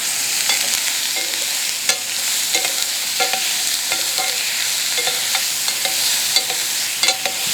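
Onions char and sizzle in a hot pan for a salsa verde, a constant bright frying hiss broken by repeated sharp clicks and scrapes of stirring, close and loud with no talking.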